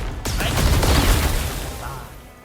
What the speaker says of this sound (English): So here's Plague Barrage.